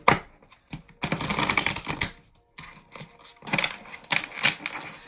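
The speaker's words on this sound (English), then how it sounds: "they wanted me to shuffle like this a couple times" Tarot cards are shuffled by hand in quick bursts of riffling and rustling, close and fairly loud, with short pauses between rounds.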